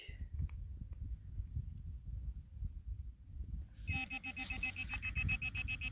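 A metal detector sounds a steady beeping tone over a musket ball dug from a clump of soil, starting partway through after low rustling and handling noise, loud and close.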